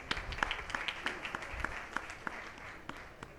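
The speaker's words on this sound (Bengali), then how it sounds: "তাদের উভয় দলের জন্য একটি করতালি।" An audience at a children's debate festival claps for both debating teams, a scattered patter of hand claps at moderate distance with no voices.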